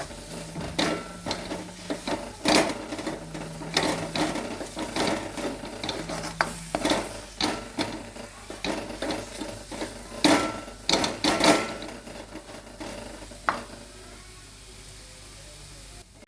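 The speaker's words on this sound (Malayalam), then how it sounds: "ഇനി അത് നല്ലതുപോലെ ഒന്ന് വഴറ്റിയെടുക്കാം." Ground coriander and tomato masala sautéed in a pan for a chicken curry, heard as close, repeated scraping and stirring strokes with a soft sizzle underneath, settling to quieter frying toward the end.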